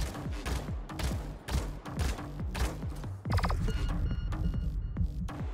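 A full magazine of gunfire in the video game Paladins, a run of loud repeated shots with mechanical clicking and ratcheting between them, ending in a denser sustained burst.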